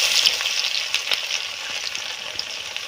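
Garlic hits hot oil with cumin seeds, giving a bright, crackling sizzle that starts loud and settles into a steady fry with small pops, close and alone.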